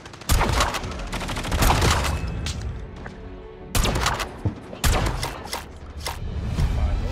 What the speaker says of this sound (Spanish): Buen momento para darle uso a esta escopeta legendaria.